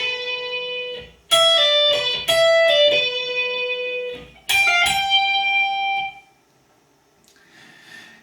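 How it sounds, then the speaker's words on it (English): A lead guitar plays the top line from bar 9 of a song in clear, sustained electric notes with a few bent or slid phrases, loud and close, and fades into near silence at the end. "The top line, guitar 1 of bar 9 sounds like this."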